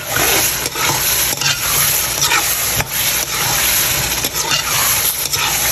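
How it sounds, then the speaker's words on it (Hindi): Sliced potato strips fry in a pan, a steady wet sizzle with scraping stir strokes and little clatters every second or so, close and continuous. "इनको कोई 2-3 मिनट के लिए भून देंगे इस तरीके से"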